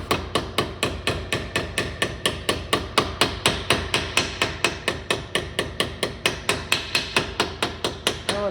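Steady metallic hammer blows drive a pinion yoke seal into a Dana 44 differential during a regear, about four strikes per second, close and loud, with a sharp ringing tone on each hit and no talking.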